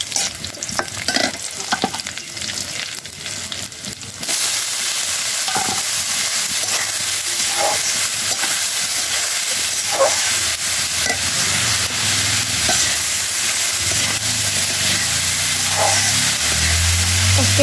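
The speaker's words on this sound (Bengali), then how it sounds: "চিংড়ি মাছ দিয়ে ভাজি করতেছি" Bottle gourd frying with shrimp in a pan on a gas stove, a steady loud sizzle with spoon stirring scrapes and clinks throughout, growing denser after the first few seconds.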